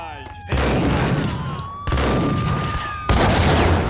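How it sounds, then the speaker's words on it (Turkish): Explosions from thrown bombs in the Max Payne 1 video game, three loud blasts, each a sudden broadband burst with a rumbling decay, spaced roughly a second or more apart amid game noise. "Bak bomba atıyorlar herhalde, bir dakika."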